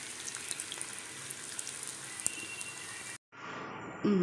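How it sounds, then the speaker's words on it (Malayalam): Boneless chicken frying in hot oil gives a steady, even crackle and hiss that runs for about three seconds, cuts out briefly, then carries on more softly, with a clatter near the end. "അത് നമുക്ക് ഈ എണ്ണയ്ക്കകത്ത് ഒന്ന് ഫ്രൈ ചെയ്തെടുക്കാം"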